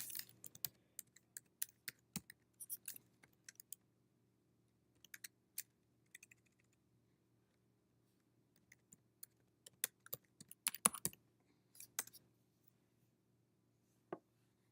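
Someone typing a search on a computer keyboard, bursts of quiet, close key clicks in irregular runs separated by short pauses of near silence.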